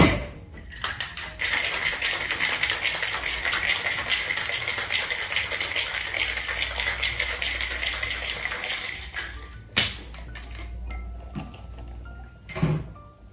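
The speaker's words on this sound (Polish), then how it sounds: "Wszystkie składniki szejkujemy." A mango, strawberry and orange cocktail made with Dilmah tea is shaken hard with ice in a shaker, a steady loud rattle of cubes for about nine seconds, followed by a few separate knocks and clinks.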